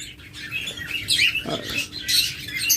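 Caged diamond doves chirping, several short high chirps and tweets scattered through the clip over a low steady background hum.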